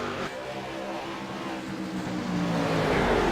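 Pro Late Model race cars roaring around Five Flags Speedway during a side-by-side battle for the lead, a sustained engine drone that swells louder toward the end as the field approaches.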